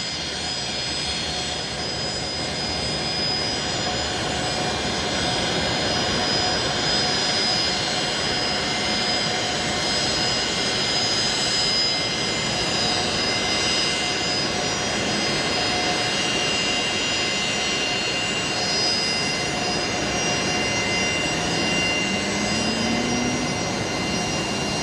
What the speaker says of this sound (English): the microphone doesn't behave too well with the Fokker noise